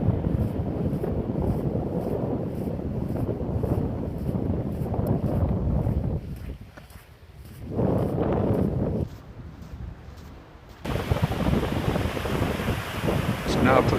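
Steady wind buffeting the microphone on a coastal path at low tide, with a broad surf-like wash and gusty roar that briefly drops away, then returns strongly near the end.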